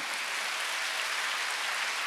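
A church congregation at a Wednesday worship service claps together, a steady, continuous wash of many hands that stays even throughout the short stretch.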